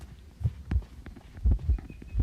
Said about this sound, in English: You guys saw I got a little bit of a heartbeat there.